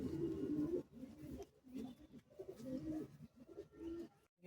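Low, throaty coos of a male Kalduma pigeon in repeated rolling phrases with short pauses between, fairly close and clear, with no talking.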